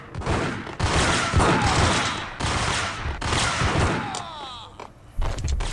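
Shotgun fire in the video game Max Payne comes as a dense run of loud blasts and booms, close and heavy, with a few thuds and a brief break before a final burst.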